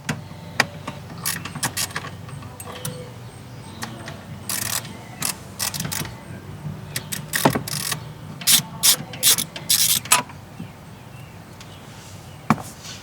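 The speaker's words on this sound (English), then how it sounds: "grab a 10mm socket with an extension, and there are 2 bolts on each side that we are going to remove" Ratchet wrench on a 10mm socket with an extension backing out bolts on a Lexus GX460 during a stereo install, giving scattered sharp clicks and clacks in short bursts, close by, with no talking.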